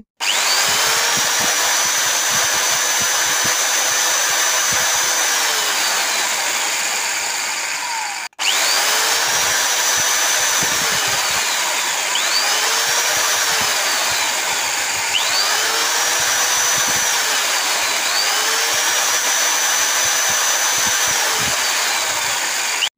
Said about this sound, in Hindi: तो इस वाइसर को वाइस में लगा लेते हैं लगा देने के बाद अच्छे से इसको टाइट कर लेते हैं और इसके भी होल का साइज़ बड़ा कर लेते हैं